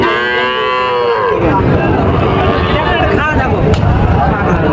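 Cattle moo loudly and repeatedly over a busy crowd murmur at the Panchbibi cattle market, with voices chattering close by throughout.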